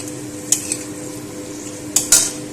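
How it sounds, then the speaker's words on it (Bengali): Chopped onion and potatoes fry in oil in a pan, a close, even sizzle punctuated by a few sharp metallic clinks of a spatula against the pan. "পেঁয়াজটা কুচো করে এই তেলের মধ্যে খুব ভালো করে ভেজে নিয়ে তার সাথে আলুটা ভাজা ভাজা করে নিচ্ছি"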